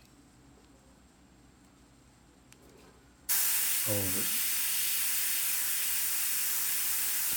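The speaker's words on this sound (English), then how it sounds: "spray right onto the frisket, and bring some of that orange" A steady airbrush hiss spraying orange paint onto frisket starts abruptly and runs continuously, loud and close, with a brief murmured word partway through.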